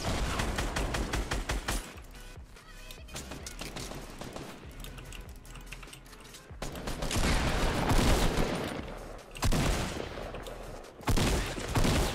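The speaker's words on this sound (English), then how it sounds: "We're lasering him right now." Rapid automatic gunfire in the Fortnite video game, dense repeated bursts of shots with short pauses between volleys, loud and sustained across the whole stretch with no speech over it.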